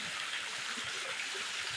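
A waterfall beside a hill temple to Shiva in the forest gives a steady, even rush of falling water, continuous and fairly faint, with no voices over it.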